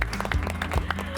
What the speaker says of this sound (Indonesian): tepuk tangan paling meriah untuk para panelisnya yang sudah berbaik hati